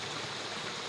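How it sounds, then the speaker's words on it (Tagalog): River water flows steadily in a brief, continuous, moderately faint rushing wash heard alone. "Ilog uli ito."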